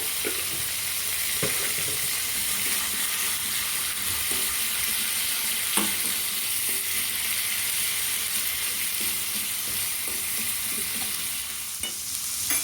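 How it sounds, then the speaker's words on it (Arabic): Aubergine tasha with coriander sizzles in hot oil: a steady, close broadband hiss that runs throughout, with a few faint clinks and stirring sounds and no talking. "طشه البتنجان بالكزبره، شويه كزبره كده"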